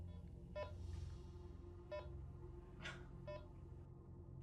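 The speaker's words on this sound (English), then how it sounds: "Now it's beeping." Several short electronic beeps from malfunctioning equipment repeat at irregular intervals over a steady low hum, faint and slightly distant.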